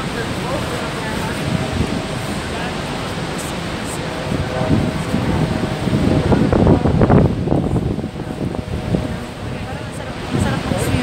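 Water rushes steadily at Niagara Falls, a broad, loud roar mixed with wind buffeting the microphone and swelling in the middle, with voices talking over it.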